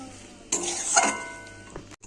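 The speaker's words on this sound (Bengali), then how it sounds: "ধনে পাতাটা এবার মিশিয়ে নেব।" Coriander leaves stirred into dry fried rohu fish in a pan: a scrape of a spatula against metal with a soft sizzle, one main burst of stirring then fading, no talk.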